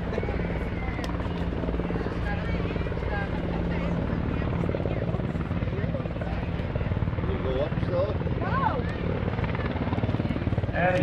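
A UH-60 Blackhawk helicopter flying a demonstration at the 2021 Greenwood Lake Airshow, its loud, steady rotor thump and turbine roar running unbroken throughout with faint voices underneath.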